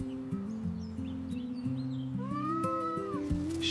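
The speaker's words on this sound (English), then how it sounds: "Our new cat is stuck." A frightened kitten stuck up in a tree meows in short, rising cries over a steady musical backdrop, with bird chirps faint in the distance.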